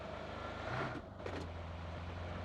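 A vehicle engine in the video game BGMI drones faintly and low beneath a quiet background, with a brief whirring swell in the middle.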